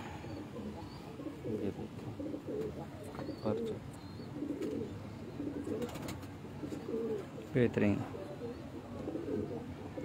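Pigeons coo softly in repeated low phrases on a rooftop in Multan, with someone talking over them and faint chirps and background noise around.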